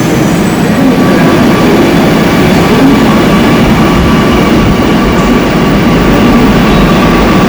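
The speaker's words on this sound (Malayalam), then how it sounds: "മെട്രോ പോയി" A loud, steady low rumble and rushing roar of a Kochi Metro train moving off from a station near Lulu Mall, sustained throughout with no talking.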